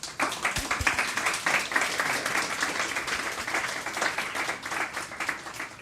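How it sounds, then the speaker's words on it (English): An audience applauds the speakers at the close of a mental health panel discussion, sustained dense clapping from many hands, fairly loud and even throughout with slight swells. "So a round of applause for them."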